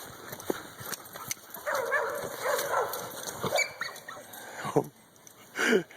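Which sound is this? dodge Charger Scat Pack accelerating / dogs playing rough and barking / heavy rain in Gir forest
dogs playing rough and barking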